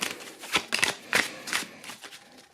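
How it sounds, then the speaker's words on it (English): Cards are shuffled with several quick riffling bursts, close up and crisp, each lasting a fraction of a second. "shuffle them up"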